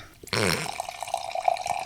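Garrison Brothers bourbon poured into a beer snifter glass, a sudden close liquid gush starting abruptly, then a thinner trickle with small splashy drips continuing to the end.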